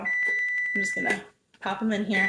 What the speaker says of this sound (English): That is the alarm for the pastry shelf.